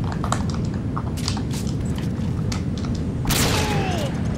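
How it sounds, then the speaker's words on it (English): A frag grenade goes off in a video game as a muffled, rumbling boom over a constant dense background din, with a brighter burst of crackling debris near the end. "Because I threw the frag"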